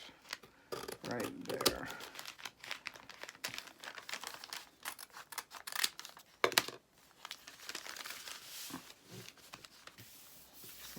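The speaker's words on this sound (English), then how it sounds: "So I may end up cutting this bag a little bit." Close, quiet crinkling and rustling as a plastic bag is handled and cut during a paper craft project, with scattered snips and a brief voice.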